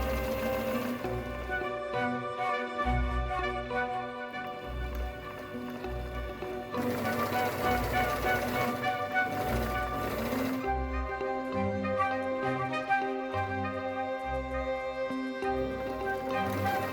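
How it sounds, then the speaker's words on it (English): A sewing machine stitches a small double rolled hem on a chemise, its rapid mechanical whirr and rhythmic needle clatter running in bursts with short pauses, steady and close throughout. "I'm just going to do a small double roll hem to finish it off."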